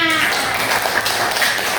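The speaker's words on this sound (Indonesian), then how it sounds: "Tepuk tangan buat temannya" A classroom of pupils claps for a classmate, a dense, steady patter of hand claps filling the short stretch with no pauses.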